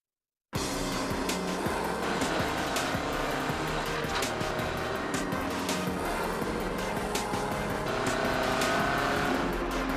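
Junior Mini Challenge race car at Mondello Park, a continuous loud engine drone with rattling mechanical texture, close and sustained, no talking.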